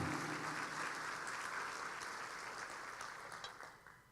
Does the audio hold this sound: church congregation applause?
yes